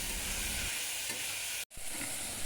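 Carrots, peas, beans and tomatoes are stirred in a sizzling pan for wheat rava khichdi, a close steady frying hiss with scraping turns and a brief dropout partway through.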